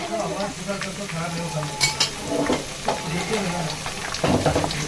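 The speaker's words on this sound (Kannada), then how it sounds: "ಅನ್ನ ಒಗ್ಗರಣೆ ಹಾಕ್ಬಿಟ್ಟು" Rice being tempered (oggarane) in a pan sizzles and fries while a spoon stirs and scrapes against the metal, with irregular clinks and bursts of crackle close by.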